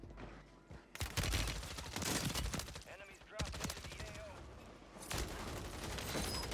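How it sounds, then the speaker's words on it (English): Gunfire in the video game Warzone on Rebirth Island, with dense rapid bursts of shots that cut in sharply several times and continue at a steady loudness between them. "This guy got shot from somebody."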